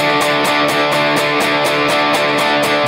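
Two guitars play the chorus chords of a song together, a dense, loud, continuous strumming with a steady rhythmic pulse and no speech.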